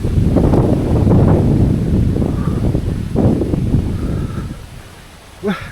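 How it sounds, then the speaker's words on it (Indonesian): Strong wind gusting through a remote rural village beside a cornfield, a loud steady roar buffeting the microphone that eases toward the end as a brief sharper sound cuts in. "Anginnya kencang banget."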